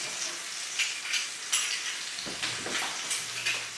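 Five medium cloves of pressed garlic sizzle in a hot pan on a gas stove for a salmon and bacon stir fry, a steady close crackle with a few sharp clinks and scrapes of a utensil against the pan.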